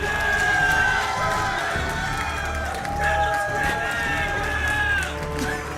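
A large live crowd at a StarCraft 2 esports event cheers and roars steadily throughout, a dense wash of shouts and whoops with an announcer talking over it.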